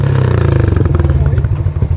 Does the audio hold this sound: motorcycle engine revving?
yes